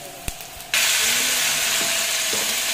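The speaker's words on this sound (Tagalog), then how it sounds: "Gigisa muna natin to." Chicken pieces hit a hot pan for chicken minudo and a loud steady sizzle bursts in after a brief quiet moment, then continues evenly with faint utensil knocks underneath.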